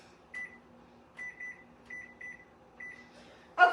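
A kitchen oven timer beeps in short electronic bursts, four or five clipped groups of repeated tones with brief pauses between, over a low steady hum, ending in a sharper clatter.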